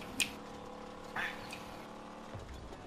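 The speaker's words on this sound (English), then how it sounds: "That's my text message noise." A phone's text message notification chimes twice, short faint quack-like blips, over the steady engine rumble and effects of a vehicle combat game.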